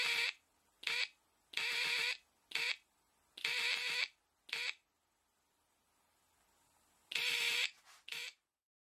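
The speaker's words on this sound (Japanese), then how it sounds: "ブザーの鳴り続く長短でモールス信号が聞き取れます" A buzzer wired to a coherer radio receiver sounds Morse code in sharp, rasping bursts of long and short lengths, separated by silent gaps, with a longer pause before a final cluster.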